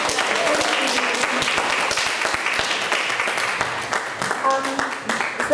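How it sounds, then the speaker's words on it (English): Audience applause at an awareness event fills the room, a dense, sustained wash of many hands clapping at steady volume, thinning slightly toward the end. "Can we give a round of applause to Sarah?"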